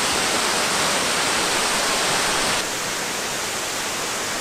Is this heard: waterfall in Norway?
yes